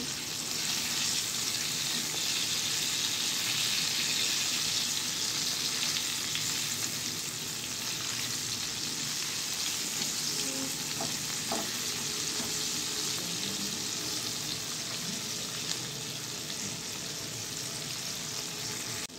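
Chicken frying in oil, a loud steady sizzle and crackle holding evenly throughout, close up, with faint occasional stirring and no voices.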